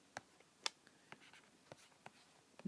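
A pen or marker writes an electrical circuit equation by hand, giving faint, scattered scratches and taps close up in a quiet room.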